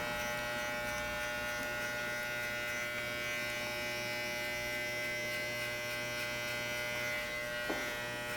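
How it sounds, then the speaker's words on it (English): Wahl electric hair clippers run with a steady, close buzzing hum for the whole stretch during a haircut, heard alone with no talking. "these are the Wahl clippers I found out are a little bit more stronger than Masters at particular types of hair"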